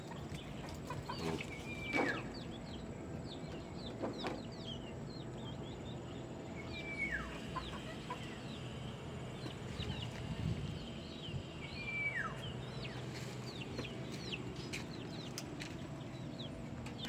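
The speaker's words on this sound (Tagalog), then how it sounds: "mga manok na ako nung alaga rito" Free-roaming backyard chickens cluck and call at a moderate distance, with one or two louder crowing or squawking calls standing out over a busy outdoor background.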